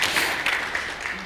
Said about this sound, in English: So you can clap again for that if you want.